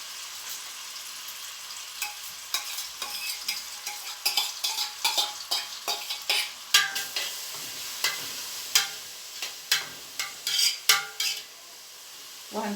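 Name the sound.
onion frying in a pan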